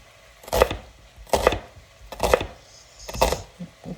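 Knife chopping through food on a cutting board while a cook preps a vegan meatloaf meal, four distinct firm thunks spaced evenly about a second apart, close and clear with quiet pauses between.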